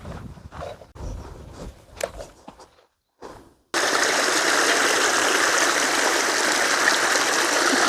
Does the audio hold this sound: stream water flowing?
yes